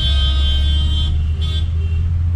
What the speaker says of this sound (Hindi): हॉर्न्स ही हॉर्न्स की आवाज सुनाई दे रही है बस हर जगह से।